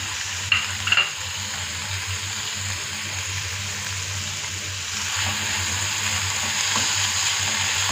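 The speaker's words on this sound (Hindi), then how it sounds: "लहसुन अदरक का पेस्ट डाल के लाइट गोल्डन होने तक इसको फ्राई करेंगे" Garlic ginger paste fries in a tablespoon of oil in a frying pan, giving a steady soft sizzle with a couple of brief clinks of stirring near the start.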